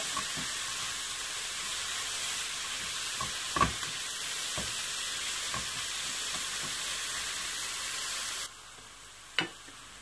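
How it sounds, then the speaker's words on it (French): Onion, garlic and parsley frying in olive oil for a salmon puff pastry dish, giving a steady close sizzle with occasional soft stirring knocks and clicks throughout, the hiss dropping slightly near the end. "je vais prendre le mélange d'oignon et d'ail et le persil. Et je vais les faire cuire sur l'huile d'olive."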